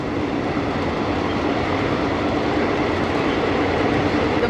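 A train in motion on a Thailand to Jaffna rail journey gives a loud, steady, close rumble of wheels and carriage noise that never lets up and has no talk over it.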